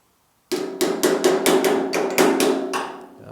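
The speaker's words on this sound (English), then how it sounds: "I'm going to go ahead and grab a hammer, and we're going to tap on this really lightly." A hammer taps lightly and repeatedly on a dented body panel of a GTO restomod in a workshop, about ten crisp metallic strikes in quick succession, close and clear with a faint ringing, no talking.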